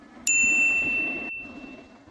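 A single bright notification bell ding strikes sharply and rings out cleanly, its tone fading slowly over about two seconds against a quiet background.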